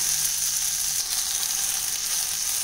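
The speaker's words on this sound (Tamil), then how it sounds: "இது நல்லா சுருளை வதங்கட்டுங்க." Salted ingredients for a mint chutney sauté in a pan with a steady, even sizzle that holds at a constant level throughout, with no talking.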